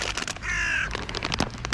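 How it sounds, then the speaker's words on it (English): Crows caw in quick, loud succession near a parking lot, harsh repeated calls tumbling over one another, with one longer drawn-out call in the middle. "Oh, my beautiful little crows."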